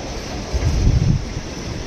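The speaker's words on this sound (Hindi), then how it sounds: "हवा की आवाज़ भी सुन सकते हो आप" Strong stormy wind in Mumbai buffets the microphone in low rumbling gusts, swelling loudly in the middle before easing back to a steady roar.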